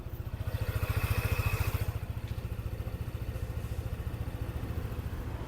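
A small scooter engine idles steadily nearby, a fast even putter with a slight clatter, loud and continuous with no talking.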